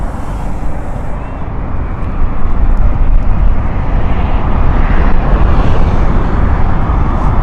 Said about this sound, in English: It's the 777-300 of British Airways 108.